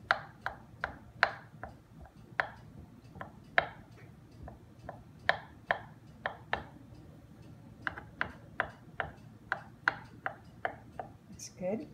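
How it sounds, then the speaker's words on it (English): A knife chops hard-boiled egg whites on a cutting board, giving a steady run of sharp, close taps at an uneven rhythm against quiet kitchen background. "then cut up the whites"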